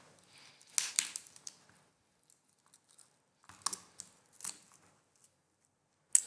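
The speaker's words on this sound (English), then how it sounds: "I'm just using some scissors, working very carefully into that section" Scissors snip into the mouth parts of a crab being prepared for Singapore chilli crab, giving a few close, crisp crunching cuts in short bursts with quiet pauses between, and a sharp click at the end.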